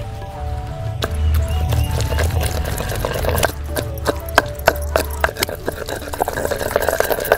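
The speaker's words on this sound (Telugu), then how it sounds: "ఈ ముక్కలో కలిసిపోయేదాకా నూరుకుందాం." Rhythmic pounding of green chillies and tomato pieces in a stone mortar for brinjal roti pachadi, with sharp irregular knocks and wet squelching thuds of the pestle grinding close by, no talk.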